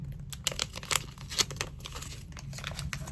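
Paper is folded and creased for a heart origami, with close crinkling and sharp crackles scattered irregularly over a low background hum.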